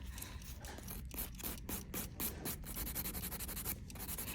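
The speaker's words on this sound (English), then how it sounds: "And you're not filing the natural nail. Remember, you're filing to blend." Nail file blending an artificial nail in quick back-and-forth strokes, a soft close rhythmic rasping that repeats steadily and faintly without any speech.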